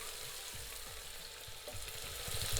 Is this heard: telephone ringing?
no